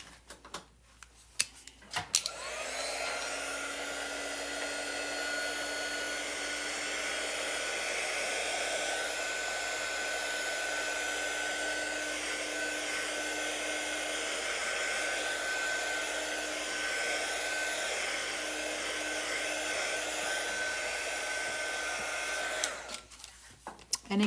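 A heat tool dries a chalk-stained scrapbook page, switching on with a click into a steady, close whirring blow that holds for about twenty seconds before cutting off.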